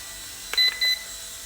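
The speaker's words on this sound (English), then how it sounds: "2 beeps, high rates." Two short, bright electronic beeps, close and clear in quick succession, come from an Eachine E129 RC helicopter transmitter switching to high rates, with quiet hum between them.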